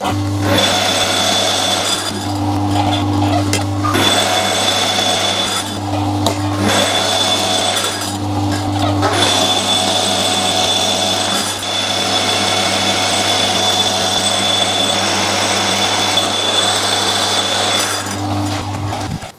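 A lathe turning tool with long stick-out takes shallow cuts in a small mild steel firing pin nipple for a side-by-side shotgun, giving a steady, loud machine hum with a continuous cutting whine and a few brief changes in tone.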